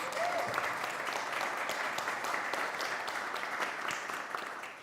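An audience applauds a scholarship recipient at a church service, dense steady clapping filling the room at a fairly even level and tapering slightly at the end.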